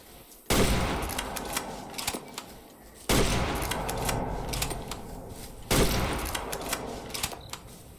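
Three heavy hunting-rifle shots in Way of the Hunter 2, spaced a few seconds apart, each a sharp loud crack followed by a long rolling echo across open terrain.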